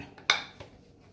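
A spoon knocks once against a bowl while mixing flour and salt, a short bright clink followed by a softer second tap, faint and close.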